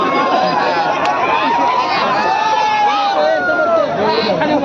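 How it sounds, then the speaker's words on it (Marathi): A dense crowd packs the ground at a wrestling fair in Pandhari, a continuous loud babble of many voices with shouts rising over it, steady across the whole stretch. "मैदान पहा तुरुंब गर्दी पंढरीच्या मैदानामध्ये."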